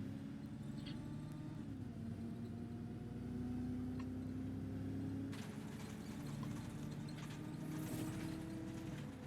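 A car overtakes and speeds up in the bus-driving simulator OMSI 2, its engine a steady droning whir under the bus's mechanical hum and clatter, rising slightly as it pulls ahead, with no talking.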